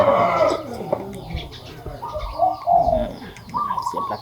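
Chickens and birds close by, with a rooster's drawn-out crowing calls rising over clucking and cooing in a busy yard of fighting cocks.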